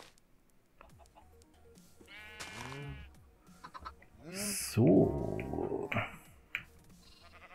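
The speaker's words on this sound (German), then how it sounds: "So, hier haben wir Schafe" Sheep in the Minecraft video game bleat several times, drawn-out wavering cries at moderate loudness, one louder and longer than the others, while someone speaks briefly at the start.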